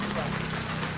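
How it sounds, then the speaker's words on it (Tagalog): Heavy rain pouring down in a steady, dense hiss across a brief moment, fairly loud and unbroken. "Lakas ng ulan."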